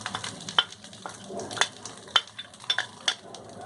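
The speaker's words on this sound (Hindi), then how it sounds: "हाई फ्लेम पर हम राइस को स्टर फ्राई करेंगे।" Rice is stir-fried over a high flame in a pan, with soft sizzling under repeated scraping and clinking strokes of a spatula against the metal at an irregular pace.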